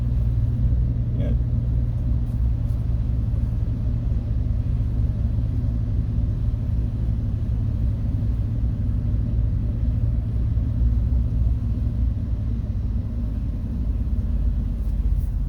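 A 2006 Chevy Trailblazer engine runs steadily while driving laps, a continuous low rumble with a smooth, even drone throughout and no talk over it.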